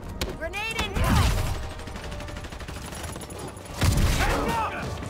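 Explosions and gunfire in a video game, with two heavy booming bursts a few seconds apart amid rattling shots and clatter, loud and close, with voices in the background.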